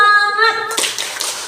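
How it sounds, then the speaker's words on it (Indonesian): Schoolchildren in a classroom perform the tepuk semangat clapping routine, a short burst of a few sharp rhythmic claps following a teacher's sung or spoken lead-in. "kita tepuk semangat dulu ya"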